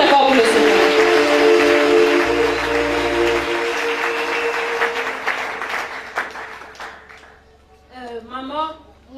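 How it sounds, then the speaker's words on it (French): Church audience applauding and cheering for the Lord, a loud dense burst of clapping and crowd noise that slowly fades, with a voice speaking at the end. "Acclamons très fort pour le Seigneur."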